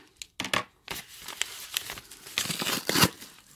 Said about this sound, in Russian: Следующий пакетик такой желтый. Пупырочку.